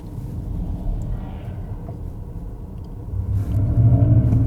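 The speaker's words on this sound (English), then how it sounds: "that sounds like an AMG GT mixed with a Lion or something" The Mercedes-Benz EQS electric car's synthetic Roaring Pulse drive sound gives a low rumbling hum that swells louder toward the end, heard from inside the car with no talk.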